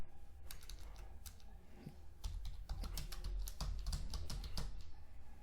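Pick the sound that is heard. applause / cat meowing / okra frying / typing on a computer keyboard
typing on a computer keyboard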